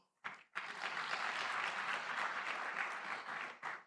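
Warm applause from guests at a medical college graduation dinner and awards ceremony, bursting in after a short pause, swelling into a sustained steady roar of clapping, then tapering off.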